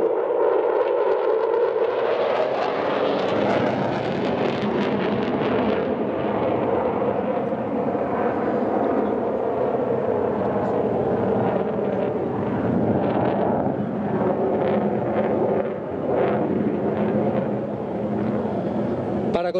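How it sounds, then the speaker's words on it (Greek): ZEVS aerobatic aircraft flying a Cuban 8 over the beach at Thessaloniki: a loud, sustained engine roar that swells and fades, heavy with wind rush, and voices or narration underneath. "Παρακολουθήστε το ZEVS καθώς εκτελεί έναν κλασικό ακροβατικό ελιγμό πάνω από την παραλία της Θεσσαλονίκης."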